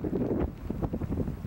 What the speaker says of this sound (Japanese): 風も吹いております。